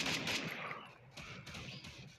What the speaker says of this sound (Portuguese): o cara me deu um tiro